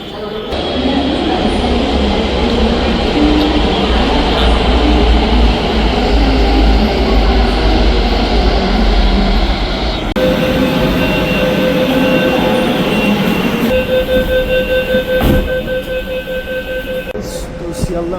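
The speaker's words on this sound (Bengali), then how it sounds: "মেট্রো ধরা যাক" A metro train at Karunamoyee station, a loud steady rumble and rail roar filling the platform for the whole span, with the tone shifting partway as the train slows and whines while braking near the end.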